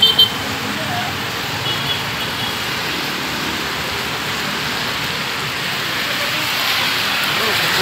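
Steady rain hisses continuously on a road as a dense, even wash of noise, with a gusty roar of strong wind underneath and no talking.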